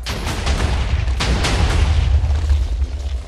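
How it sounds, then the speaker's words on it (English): Repeated booming explosions from the Minecraft video game, a dense run of loud blasts and rumbling bursts following one another over a few seconds with no pauses. "I thought there was gonna be less explosions."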